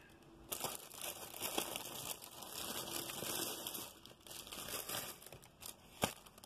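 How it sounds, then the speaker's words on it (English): Crinkly plastic packaging being handled while a diamond painting kit from an overseas mail order is unboxed, with close, irregular rustling and crunching bursts and a sharp crackle near the end. "Sorry about the crinkling."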